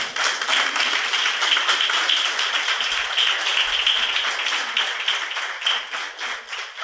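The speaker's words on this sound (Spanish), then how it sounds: "Aplauda al Señor." A church congregation claps steadily through a Spanish-language worship service, a dense, even wash of many hands that holds at a fairly loud level for about seven seconds with no voices over it.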